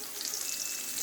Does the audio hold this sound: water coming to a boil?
yes